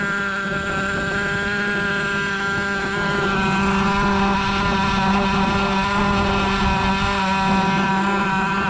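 A Traxxas T-Maxx RC truck's small nitro engine idles loudly and steadily after a dirt run, a continuous buzzing drone with a strong harmonic whine and no pauses.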